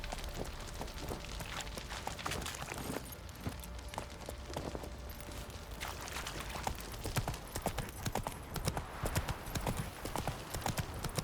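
Horse hooves clip-clopping at a quick, steady gallop in The Witcher 3 video game, continuous and fairly close, with faint game ambience underneath.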